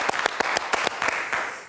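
Stadium crowd at Gerland gives scattered applause, several distinct loud claps in quick irregular succession over a steady murmur of noise.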